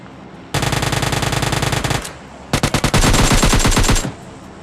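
Automatic weapon fire in PUBG Mobile Lite, likely an M416: one long sustained burst, a short gap, then a second burst that opens with a few separate shots and runs on. The shots are loud, close and rapid, with no talk over them.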